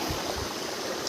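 A natural stream's current flowing steadily, a soft continuous wash of water with faint low gurgles, close and alone for about a second.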